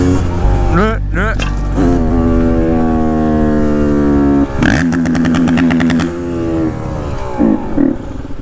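A cheap road-legal 125cc two-stroke motorcycle engine runs close by, its buzzy note rising and falling through several revs, with a sharp blip near the middle and a rattly idle toward the end.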